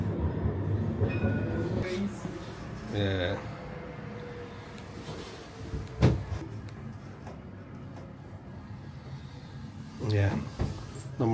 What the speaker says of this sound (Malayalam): ഇവിടെ ട്രാം നോക്കിയേ.